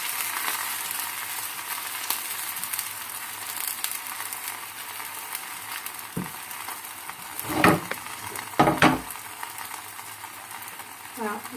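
Msemmen flatbreads fry in a hot, oiled pan, giving a continuous crackling sizzle close by, with a few sharper bursts and clatters as the bread is handled near the end.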